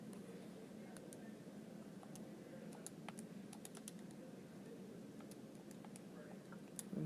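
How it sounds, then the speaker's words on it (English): Calculator keys are tapped in a steady run of light, close clicks over a faint hum as numbers are entered to work out the volume of a pyramid. "you just type it all in the calculator"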